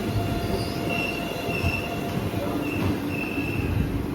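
A train rolls steadily through Banashankari halt railway station in Karnataka, after Tiptur, with a dense rumble and faint high wheel squeal, loud and close throughout.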